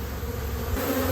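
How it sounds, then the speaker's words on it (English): Honey bees buzz in a steady, dense drone as they circle a newly moved hive on orientation flight, the hum continuous and fairly close with no voices. "So the bees are now doing their orientation flight, so they're circling their hive and their new area"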